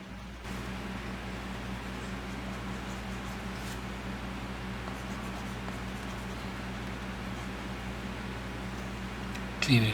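A stylus pen tip gliding and tapping on an iPad screen while sketching: soft, continuous faint scratching over a steady hum of background noise, with a brief louder bump at the very end and no speech.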